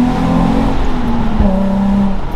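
A Nissan 350Z's VQ35DE V6 revs nearby with a loud, buzzy engine drone that climbs briefly in pitch partway through, then settles back to a steady throaty hum.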